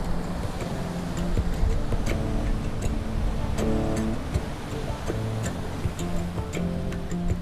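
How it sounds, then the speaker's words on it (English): Surf washes against boulders on a wild beach on the New South Wales south coast, a constant rushing wash broken by scattered clicks and hollow knocks of stones clattering together. "I love that sound of the waves hitting the boulders"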